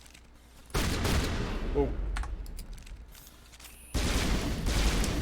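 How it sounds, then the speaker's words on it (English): Rapid bursts of gunfire from a Mass Effect battle, fired in short clustered volleys that start abruptly and recur after a quieter gap, with a brief voice exclamation between them. "Yeah, burst fire."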